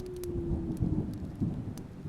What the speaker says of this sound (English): the thunder had a sullen, threatening roar that made your blood creep